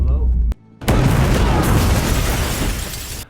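A loud, heavy explosion bursts out in a pawnshop robbery scene of a movie, briefly after a short pause, followed by a sustained roaring rumble of debris that fades at the end.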